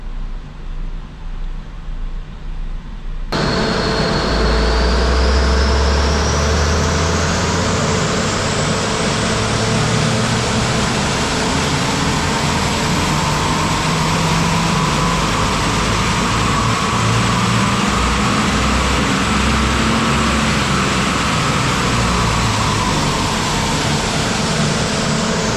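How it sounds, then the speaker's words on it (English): A Mitsubishi Xpander with a 1.5-litre manual engine idles while warming up before dyno pulls. The engine starts after a quiet few seconds, then holds a loud, steady drone with a rising whine. "we will start the engine, warm it up to the normal operating temperature."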